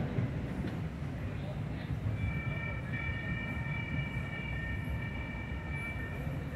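A light rail train rolls past a railroad crossing on 16th Street in Sacramento, California, steadily with a low rumbling drone and faint high metallic squeal tones, continuous and fairly close.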